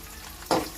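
Peanuts frying in a pan give a short, soft burst of sizzling and stirring near the end of an otherwise quiet moment.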